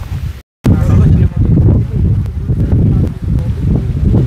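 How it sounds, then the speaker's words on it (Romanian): Gusty wind buffeting the microphone outdoors near a royal castle on a cloudy day, loud low rumbling bursts that rise and fall, with a brief dropout near the start. "Bate și vântul"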